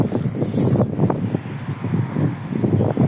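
Strong outdoor wind buffets the microphone continuously, a dense low rumble with gusting surges throughout, during a casual kick-around on an open training ground; no speech is heard.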